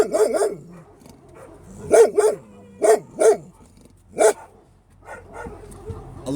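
A dog barks repeatedly at another dog in short, loud bursts and clusters with brief pauses between, close by, with whimpering yips mixed in and a voice faintly in the background.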